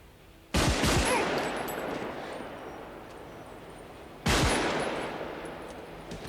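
Gunfire from the heist scene in Heat (1995), two loud broadband blasts with sharp attacks, each ringing out and echoing for several seconds as the sound slowly decays.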